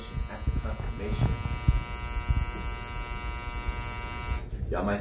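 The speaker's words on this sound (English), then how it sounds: "Y'all might say that's just a dryer buzzer" A clothes dryer buzzer gives a steady electric buzz with many even harmonics that holds throughout, with a voice talking faintly underneath and a brief disturbance near the end.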